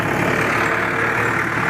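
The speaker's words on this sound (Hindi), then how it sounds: "देखो लंबा ट्रैक्टर है किस तरह से।" A long decorated tractor runs steadily near a sugarcane field in a village area, its engine holding a continuous low, droning idle throughout, close and fairly loud with no break.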